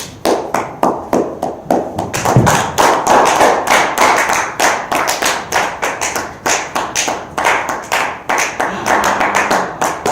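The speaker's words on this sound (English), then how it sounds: "that's enough. Too many claps" A talk-show audience claps hard and rhythmically, many hands striking in quick, even pulses that keep going for the whole stretch, loud and close, with no talking over them.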